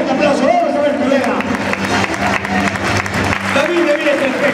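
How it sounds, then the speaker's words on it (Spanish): A crowd applauds the performers at a bullfighting event, a loud continuous wash of clapping and crowd noise with a voice talking over it. "Ese fuerte aplauso para ellos."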